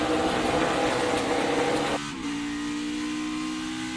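NASCAR Xfinity race cars roar down the front stretch at Watkins Glen, a loud sustained engine blare that drops abruptly halfway through as the sound shifts to a steadier, lower drone.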